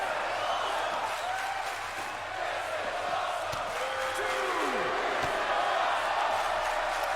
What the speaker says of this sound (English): That "this is awesome" chant coming from the crowd.